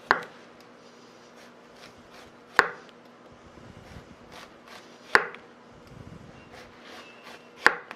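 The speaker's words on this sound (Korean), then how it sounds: "너무 두꺼우면 맛이 없으니까 적당한 두께로 잘라줄게요" A knife cuts through zucchini on a cutting board while it is sliced to a moderate thickness for Korean pancakes. Four sharp, close chops land at even intervals of about two and a half seconds, with quiet handling sounds between them.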